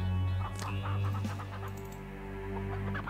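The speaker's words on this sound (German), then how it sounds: "Die Hühner gehen ab, ihr hört's." Chickens clucking in the western video game Desperados: Wanted Dead or Alive, several short agitated clucks and squawks over a steady low background hum, moderately close, with no speech.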